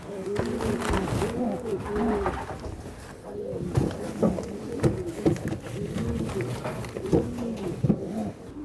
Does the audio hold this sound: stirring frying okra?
no